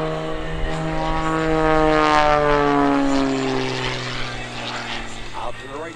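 An Extra 300 aerobatic airplane spins and tumbles at an airshow, its propeller engine droning loud and steady with a wavering, Doppler-shifting pitch, while an announcer talks over it.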